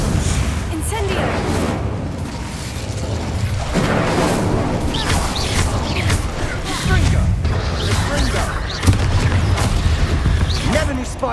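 Incendio fire spell cast in Hogwarts Legacy, loud whooshing bursts and booming impacts repeating through a chaotic fight, with a voice shouting over the blasts.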